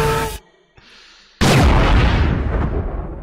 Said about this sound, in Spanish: Explotó la mierda.